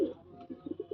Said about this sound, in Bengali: এই সেই পায়রা।